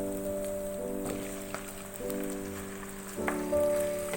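Chicken sizzles in hot oil with garlic and ginger over a medium flame, a soft, steady crackle at low volume with brief tonal hums over it.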